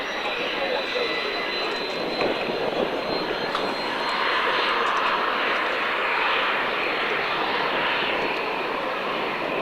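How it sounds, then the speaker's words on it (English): A Hawker Hunter and two de Havilland Vampire jets fly a crossover at the 1995 Fairford Airshow, their engines making a loud, sustained roar that swells as they pass. A commentator talks over the noise. "Coming in from the right and left, the Hunter on the right, the two Vampires on the left for a crossover in the middle."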